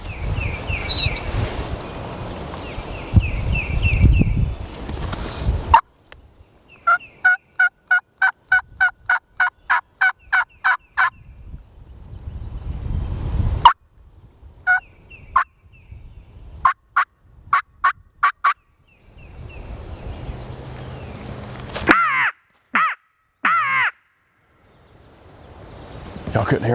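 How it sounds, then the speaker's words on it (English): Wild turkeys gobbling in bursts of rapid, rattling calls during a spring turkey hunt, several rounds at moderate distance, with wind and a quiet voice between them. "Y'all couldn't hear them gobbling?"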